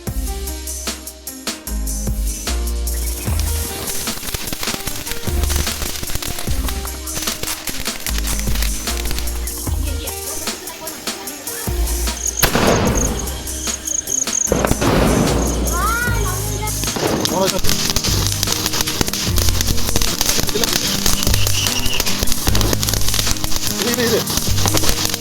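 Diwali firecrackers going off at a festive celebration, a long run of sharp bangs and crackling bursts, some rapid and overlapping, with background music and voices throughout.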